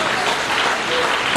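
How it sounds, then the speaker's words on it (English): An audience claps hands together at a sound engineering lecture, a brief dense burst of applause filling the room at steady loudness. "Please clap your hands if you are clapping your hands"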